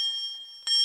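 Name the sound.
electric bell ringing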